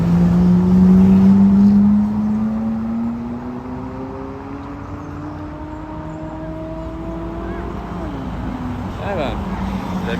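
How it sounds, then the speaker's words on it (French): A Ferrari 458 Italia and a Porsche Taycan drive past on a Paris street: a loud engine note climbs steadily in pitch over a constant roar of traffic, then drops with a gear change. "Porsche Taycan qui se dépêche de passer car Ferrari 458 Italia"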